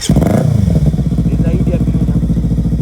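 A motorcycle engine running close by with a rapid, throbbing idle and a brief rev at the start, loud and steady, with someone talking over it.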